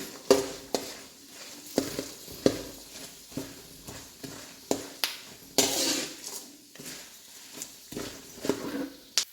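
Chana dal and urad dal roast in a pan on low heat until reddish, stirred with a spoon: close, regular scraping and clinking strokes over a soft sizzle, with no talking.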